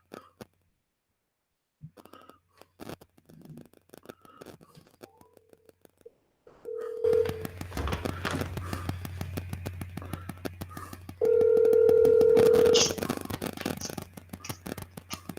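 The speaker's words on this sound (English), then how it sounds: "Let's go ahead and get David on the phone" Telephone line tones sound while a radio sports show calls a guest. After near silence and scattered clicks, a short electronic beep is followed by a longer steady tone over a low line hum.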